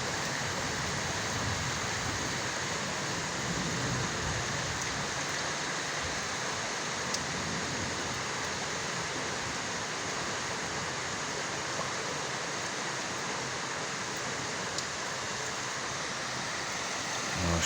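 Heavy rain falls during a strong thunderstorm over a residential neighbourhood, a dense, steady, loud roar of downpour holding constant throughout with no voices.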